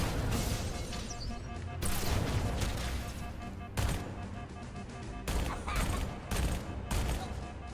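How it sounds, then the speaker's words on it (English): SMG fire in the video game Halo Campaign Evolved: loud, dense rapid bursts with short gaps between them, layered with crashes and impacts, close and continuous. "SMG is extremely effective."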